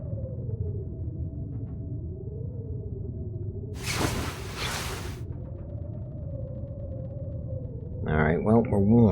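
Wind and weather rumble outside during a storm in The Long Dark, a steady low roar with a strong gusting whoosh in the middle and a brief sharper burst near the end.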